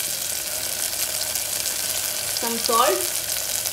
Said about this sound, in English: let me fry this for another 1 minute